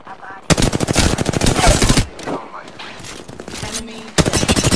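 Rapid automatic machine-gun fire in a shooter video game, loud close bursts of fast repeated shots broken by a short lull, with game voice callouts beneath.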